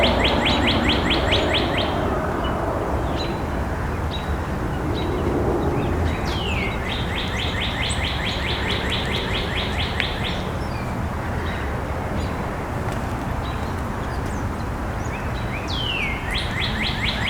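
A cardinal sings in Dan Ryan Woods in Chicago, repeating bright whistled phrases in bursts over steady woodland ambience, clear but at some distance.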